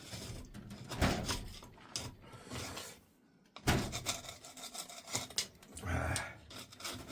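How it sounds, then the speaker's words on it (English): Rough, repeated scraping strokes clean an old copper head gasket from an engine, the rasping coming in uneven bursts with a short pause midway, close and fairly quiet. "scrape the worst of this off"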